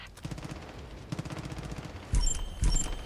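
Automatic gunfire hits the player in the video game Far Cry 5, with a couple of loud, sharp bursts near the end following a steadier stretch of game noise.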